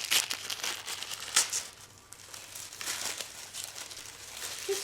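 A small white paper envelope is opened by hand, with close crinkling and tearing of paper in short bursts and a quieter pause in between, heard alone.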